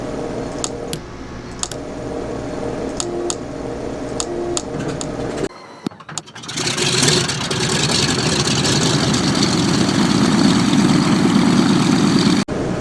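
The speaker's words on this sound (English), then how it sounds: "Engine started." Douglas Super DC-3 radial engine starting up in Microsoft Flight Simulator: starter whine with clicking, a brief cut, then the engine catches into a loud, steady low rumble.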